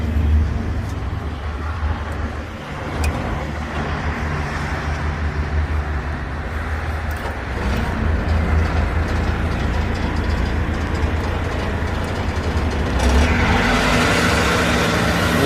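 A Niigata NFB6W1 asphalt paver with its engine revved outdoors, a loud, steady low diesel rumble that swells louder near the end.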